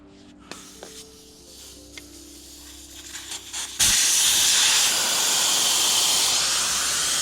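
Air rushes out of a 1976 Honda CB750 motorcycle's tube tire as the Schrader valve core is unscrewed, a loud continuous hiss that begins abruptly after a few quiet clicks of the tool and holds steady to the end.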